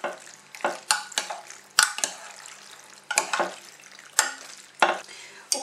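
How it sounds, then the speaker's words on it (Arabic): Pasta gratin mixture with sauce being stirred in a dish: repeated scraping, wet squelching strokes at an irregular rhythm, close and fairly loud, with no talk. "وتنخلط مزيان كلشي"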